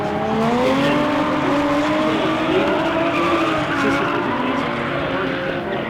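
Team drift cars sliding flat out with long, loud overlapping tire squeals that wail and shift in pitch over a steady engine roar, sustained throughout.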